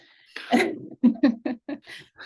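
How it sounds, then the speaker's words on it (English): A cat sneezes in a quick run of small, sharp sneezes close by, five or six short bursts in a row, with near silence around them. "the cat just sneezed"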